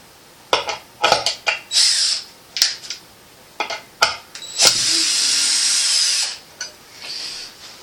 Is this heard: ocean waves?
no